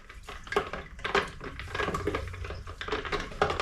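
Homemade soap ingredients are stirred in a container under a kitchen hood vent, giving irregular scraping and clinking with soft sloshing throughout, close and moderately loud.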